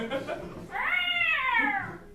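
After some soft background noise, a cat outside lets out one long, wavering meow, clear and fairly loud, near a one-story home at night.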